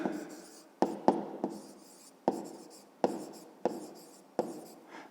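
Pen or chalk writing by hand during a Ukrainian 5th-grade math lesson, close and soft, a steady scratching broken by sharp taps roughly every second as strokes begin.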